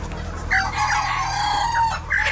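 Chickens in a poultry farm call out close by, a few drawn-out, strained clucks and crow-like cries over a low steady hum of the shed.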